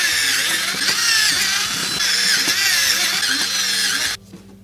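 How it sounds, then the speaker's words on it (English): A power drill whines steadily at high pitch, grinding into a concrete dumbbell for several seconds before cutting off abruptly. "now that we've got the holes drilled"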